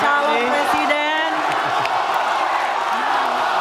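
Audience at an Indonesian presidential election debate between Jokowi and Prabowo cheers and whoops with scattered clapping, a steady crowd roar lasting throughout while a moderator's voice carries over it.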